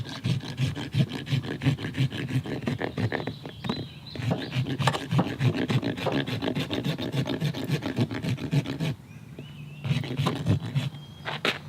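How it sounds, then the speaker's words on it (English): A hoof rasp shaves down the bottom of a horse's hoof during a maintenance trim in fast, continuous back-and-forth strokes, close and fairly loud, with brief pauses and no talking. "We're going to shave down the hoof, but only the bottom ½ inch or so."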